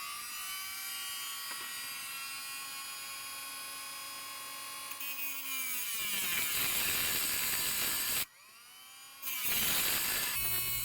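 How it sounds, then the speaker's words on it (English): A Milwaukee M12 cordless rotary tool whines at high speed, then bogs down under cutting load with a grinding, rasping tone, cuts out abruptly as the motor overload stops it, and restarts a second later. "You'll actually activate the motor's overload circuit and it'll stop dead on you, just like it did there for me."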